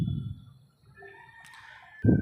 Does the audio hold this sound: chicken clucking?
yes